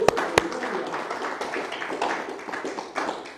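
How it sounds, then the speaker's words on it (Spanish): Church congregation applauding, scattered hand claps beginning with two sharp claps and then a looser patter of mixed claps that continues unevenly. "Un aplauso al Señor."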